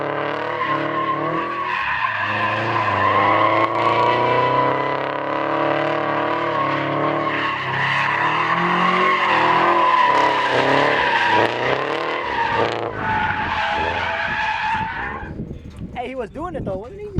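A new car drifts after a clutch kick, tires squealing and skidding loudly and continuously with engine roar, the squeal warbling in long sweeping tones before fading near the end, while voices talk over it.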